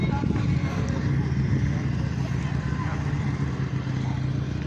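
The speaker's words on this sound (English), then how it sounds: "here's one of the neighbors bringing his bike in." A motorcycle rides in at a veterans event in Sheridan, Oregon, its low engine rumbling steadily and fairly close for the whole stretch, with people talking and murmuring in the background.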